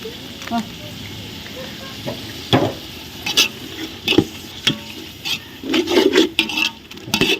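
A spoon stirs chicken biryani masala with chili powder in a pot over a wood-fired stove, making intermittent scraping and rubbing strokes in irregular bursts, close by, with a person talking between them.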